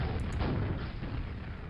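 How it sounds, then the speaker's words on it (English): A rocket launcher fires in the Quake video game, a booming blast with rumbling explosion that dominates throughout, with a couple of quick sharp high clicks near the start. "I'm just gonna rocket this guy."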